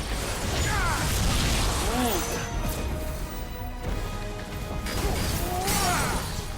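Judgment Bolt attack from the video game Final Fantasy XVI: a burst of crashing, crackling impacts and whooshing sweeps layered over dense game sound, with a voice speaking briefly over it.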